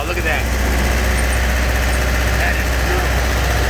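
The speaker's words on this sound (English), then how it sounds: "that humming noise must be the generator, right? 4-cylinder diesel generator" A 4-cylinder diesel generator runs with a continuous loud low hum and vibrating rumble, steady throughout, with voices talking faintly over it.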